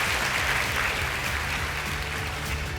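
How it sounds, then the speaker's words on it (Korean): A studio audience of aerospace university students claps at a televised special discussion, giving dense, steady applause that is close and fills the whole moment, fading slightly toward the end. "여러분, 함께 박수 쳐볼까요?"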